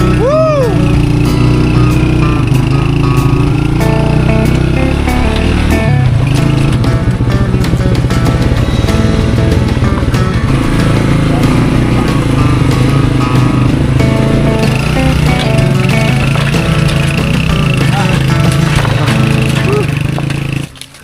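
A motorcycle engine drones steadily throughout, close and loud, with shifting revs as the bike rides along.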